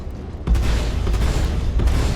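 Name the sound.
Omnisky VI laser cannons firing in video game Star Citizen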